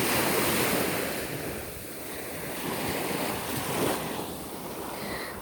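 Ocean surf rolls and breaks steadily on a beach, a continuous washing roar with swelling crests and wind buffeting the microphone, no voices present.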